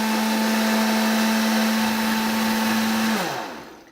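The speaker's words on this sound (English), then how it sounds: "now that I've got all the ingredients in my pretend bullet, my Oster, I'm going to go ahead and blend it up" An Oster blender whirs loudly and steadily as it blends ingredients, then winds down over the last second.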